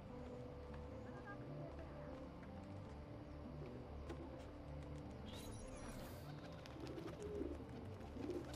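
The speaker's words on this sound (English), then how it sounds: "Hello, bird. Come here." Soft, low pigeon coos sit beneath a steady game ambience of outdoor hum and distant bustle in Assassin's Creed: The Ezio Collection, with faint clicks and swells toward the end.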